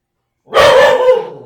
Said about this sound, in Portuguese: Jéssica, pega esse cachorro aqui, por favor.